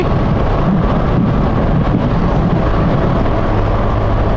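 Loud, steady roar of strong wind buffeting the microphone along Kennon Road toward Baguio, a constant rumbling rush with no pauses and no voices.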